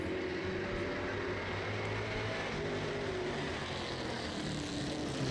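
Prostock race cars taking a flying start out of turn four on an oval circuit, their engines a loud, continuous roar that holds steady at a distance with no voices over it.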